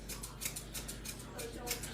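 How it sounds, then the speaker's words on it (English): Grooming scissors snip repeatedly through a dog's fur, trimming a mohawk-like tuft on the head straight up, a quick series of close, soft cuts over a faint background hum. "I'm just going to come in, scissors straight up."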